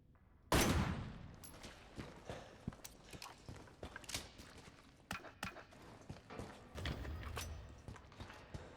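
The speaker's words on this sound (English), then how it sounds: "Could easily just shoot the rope." A gunshot aimed at a rope in a video game: one sharp, loud crack, then a run of lighter mechanical clicks, knocks and clatter.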